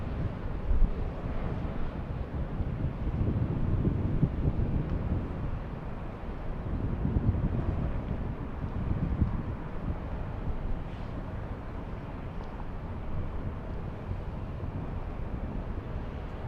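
Wind buffeting a microphone outdoors at LAX airport, with a continuous low rumbling roar that swells and eases in gusts over about sixteen seconds.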